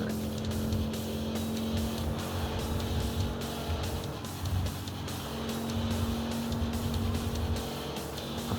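A regular car racing around a track in a VR video game, its engine droning steadily with pulsing, rising and falling revs, continuous and fairly loud with no talking.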